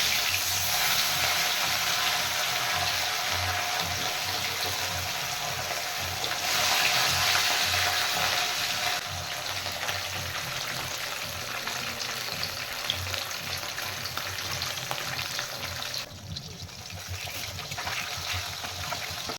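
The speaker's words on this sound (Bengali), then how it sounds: "মাছগুলো বেশি ভাজবো না আমি হালকা করে ভাজবো" Rohu fish pieces frying lightly in hot oil, a steady close sizzle and crackle that runs unbroken and fairly loud throughout, with brief shifts in intensity and no talking.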